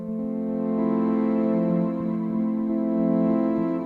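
A held synth pad chord washed in a large, spacious reverb, sustaining smoothly with slow swells and no voices.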